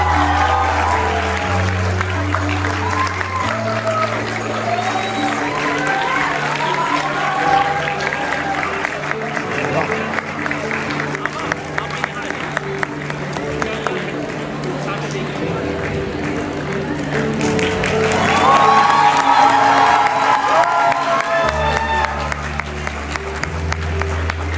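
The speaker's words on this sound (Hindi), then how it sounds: "वो जब खड़ी हो तो मैं चाहूँगा कि आप भी खड़े होकर तालियां बजाएं" An audience at a student theater event at Bahria University claps and cheers for a guest, sustained applause swelling toward the end, mixed with voices and background music.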